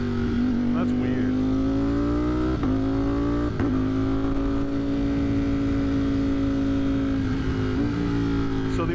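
A motorcycle of over 200 horsepower with a smaller front sprocket, its auto-blipper blipping through downshifts from the higher gears, loud and close, with repeated revs and sharp pops against a steady engine drone.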